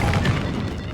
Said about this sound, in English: I think we can hurt ourselves with the cannon.